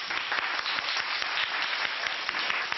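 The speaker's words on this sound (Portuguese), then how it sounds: "Vamos bater palmas para todo mundo." A classroom group applauds together, dense, even clapping from many hands sustained close by for a few seconds with no speech over it.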